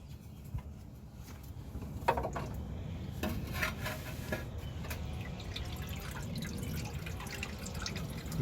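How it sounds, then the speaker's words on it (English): Transmission fluid dripping from a loosened transmission pan on a Ford F250 Excursion during a fluid and filter change, a soft steady patter of drops into a catch pan with a few sharper splats, continuous for several seconds. "Let this drip for a little bit."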